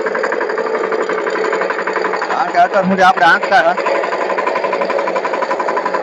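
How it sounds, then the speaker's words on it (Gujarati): A power tiller's engine thrums steadily in a cotton field, a close, continuous buzzing rattle with a regular beat, while someone talks over it throughout. "અમારા કાકા ટ્રેક્ટર આંકે છે પાવર ટીલર."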